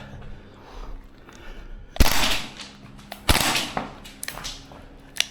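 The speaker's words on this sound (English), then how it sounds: "Let's try and do a 2-round burst." A Maruyama SPC-9 gas blowback airsoft rifle firing short bursts: two loud, close, sharp cracks each followed by quick mechanical clatter of the bolt cycling, set against a noisy outdoor background.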